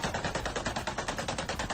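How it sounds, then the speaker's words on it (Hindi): AK-47 rifles fire automatically in rapid, even bursts of about eight shots per second, loud and sustained without a break, at a street protest in Iran. "देखिए किस तरह से AK-47 से ताबड़तोड़ फायरिंग की जा रही है"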